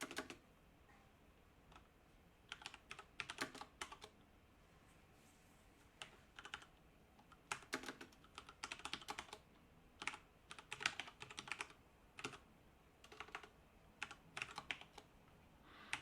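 Code being typed on a computer keyboard during a programming lecture, quiet irregular bursts of soft key clicks separated by short pauses, close and alone without talk.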